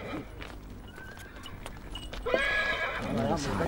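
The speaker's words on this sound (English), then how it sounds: "Usually these animals pull farm carts, but today they're war horses." Farm cart horses prepared as war horses neigh loudly and their hooves clip-clop close by, mingled with someone talking.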